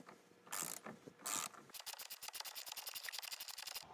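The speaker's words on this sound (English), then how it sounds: "I've got a T50 torque, and I'm gonna remove the center bolt." A T50 Torx driver on a ratchet turns out the center bolt of a Ford F150 Raptor steering wheel, with a couple of short rasps followed by a fast, steady run of close ratcheting clicks.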